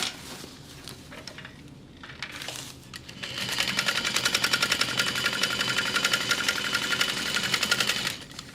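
A sewing machine stitches shut the opening of a Lauren bag, starting with quieter handling noise before settling into a loud, steady run of rapid needle clatter lasting several seconds, then stopping abruptly.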